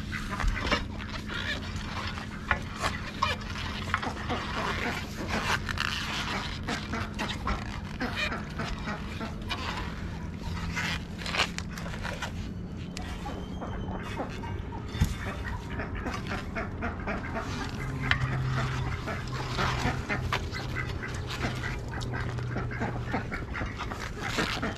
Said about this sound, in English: just a little mommy duck